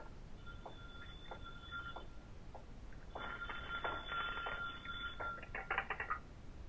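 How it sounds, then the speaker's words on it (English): An old-fashioned telephone bell rings on a night watchman's desk in a 1939 radio detective drama, with one short ring followed by a longer, louder ring over a steady hiss of old recording noise. "Suddenly, a phone rings on the desk of the night watchman."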